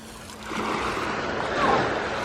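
Sea waves washing onto a wild beach in Albania, a steady broadband wash of surf that swells slightly midway, heard close and continuous with some wind and no clear voices.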